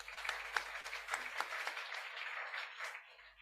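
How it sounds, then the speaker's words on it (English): Audience applause at a customs awareness session on an authorised economic operator programme, a steady mass of clapping from a seated crowd that holds for several seconds and then thins slightly toward the end. "Please give a round of applause."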